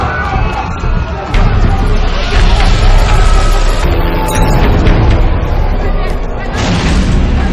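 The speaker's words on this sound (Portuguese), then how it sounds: "tiro e gritaria já no começo da novela" Loud, dense commotion from a telenovela scene, with booming gunshots amid agitated shouting voices, constant and chaotic throughout.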